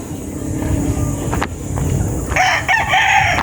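A high-action bull stag rooster crows loudly nearby in a long rising call, with other fowl clucking and faint background noise around it.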